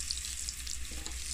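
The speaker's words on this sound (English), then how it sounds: "this is my curry, I'm gonna add a little bit to the oil. All right, so it can burn in the oil" Curry powder fries in hot oil on a stovetop, a steady, soft, close sizzle with no voices.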